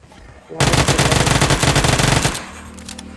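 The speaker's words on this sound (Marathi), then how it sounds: "यो काय माझ्या समोरून चाललाय गोळ्या घाल" Sustained automatic machine-gun fire in the BGMI mobile battle royale game, a loud rapid burst lasting about two seconds then cutting off, with faint game ambience before and after.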